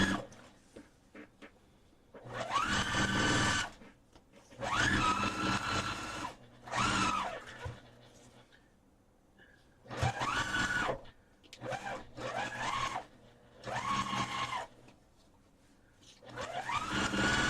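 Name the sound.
sewing quilt pieces together on a sewing machine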